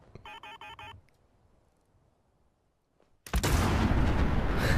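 A rifle shot hits a fusion core in Fallout 4, which then erupts in a loud, sustained blast that fills the last second and a half, after a short burst of beeping and a quiet pause.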